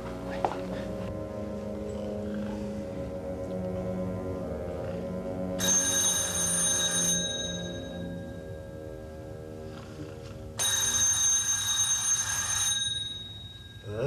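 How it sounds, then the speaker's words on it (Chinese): An old-style telephone bell rings in two long bursts separated by a pause, bright and fairly close, with quiet sounds of a room between them. "你先坐一下，爷爷马上打电话啊！"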